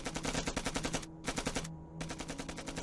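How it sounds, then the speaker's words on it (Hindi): Rapid automatic gunfire from guns in a film battle scene, bursts of repeated shots broken by two short pauses, loud and close with no talking. "ये जो फायरिंग है ये उनके बंदूक की है।"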